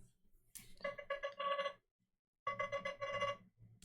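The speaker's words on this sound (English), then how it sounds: "If we go to default ringtone over here and go to nothing signal, over here we have our first one, the crossing" The Nothing Phone 4a ringtone 'The Crossing' plays two short bursts of bright, bell-like tones in a quick rhythmic pattern, separated by a brief silence, clear and alone.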